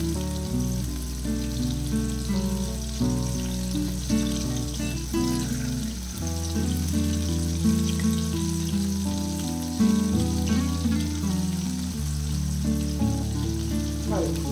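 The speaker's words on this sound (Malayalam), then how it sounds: "ഇപ്പൊ ഇത് അതുപോലെ തന്നെ ഞാൻ ഫ്രൈ ചെയ്തെടുക്കാം" Anchovies (netholi) for a fried 65 dish crackle and sizzle steadily in hot oil, a dense continuous spattering close by, with a low hum and tonal background music underneath.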